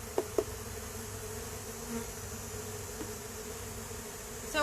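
Honey bees buzz around an open hive alongside beetles, a soft steady droning hum that carries on throughout, with a couple of faint clicks near the start.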